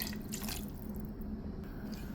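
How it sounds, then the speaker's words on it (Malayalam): Water poured from a tap or vessel into a pan of egg roast gravy, a steady close trickle and drip running the whole time with no voices. "ഇനി ഇതിലേക്ക് കുറച്ച് വെള്ളം കൂടെ ചേർക്കാം"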